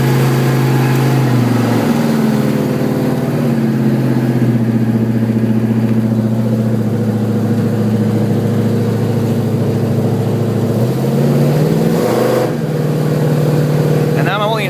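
A 1971 Chevelle SS with a 396/402 big-block V8 revs and accelerates through gears while driving with the windows down, loud close engine drone rising and dropping in pitch across several shifts.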